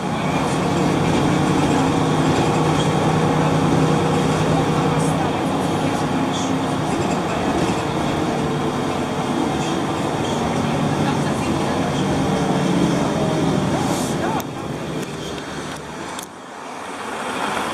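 Interior of a number 35 city bus moving along a city street: a steady, loud engine and road rumble with rattling body noise, continuous throughout and easing slightly near the end.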